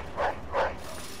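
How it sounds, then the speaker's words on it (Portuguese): A dog in the video game Mafia 2 gives two short, muffled barks about a third of a second apart, moderately loud over low background game ambience. "o cachorro do GTA V. Nossa, o cara tá tudo cagado. É igualzinho o cachorro."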